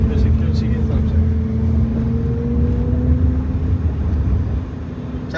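A Mahindra XEV 9e electric car plays a synthetic hum through its external speakers, a loud steady drone with tonal lines that rise and dip with the accelerator, heard up close over a low rumble of traffic.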